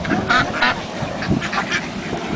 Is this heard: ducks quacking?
yes